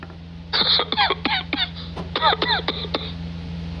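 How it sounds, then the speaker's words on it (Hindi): A man coughs in two short bursts of repeated hacking coughs, close and fairly loud, with a steady low hum underneath. "खांस क्यों रहे हैं?"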